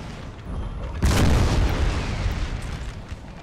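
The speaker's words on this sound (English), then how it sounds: "This artillery is simply firing on the Spanish line." A deep artillery boom from cannons in the Napoleonic battle game Napoleon Total War, one heavy blast whose rumble swells and lingers for a couple of seconds, with no speech.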